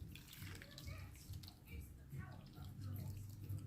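Broth is poured over chicken and rice, giving a soft, steady liquid trickle and splash in a quiet home kitchen, with a faint low background hum.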